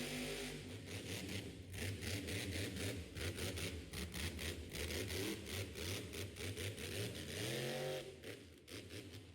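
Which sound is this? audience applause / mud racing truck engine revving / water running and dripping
mud racing truck engine revving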